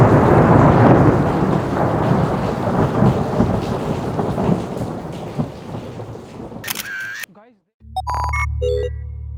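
Heavy rain pours down in a thunderstorm at an abandoned theme park, with deep thunder rumbling through a dense, loud hiss. Near the end the storm cuts off abruptly and gives way to electronic tones.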